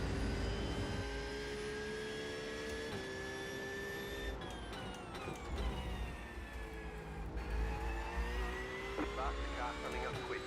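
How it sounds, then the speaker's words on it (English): A faster race car comes up from behind and passes during a Road America endurance race in iRacing, its engine whine rising and shifting in pitch across the clip over the steady drone of the player's own car. "Faster car coming up quick."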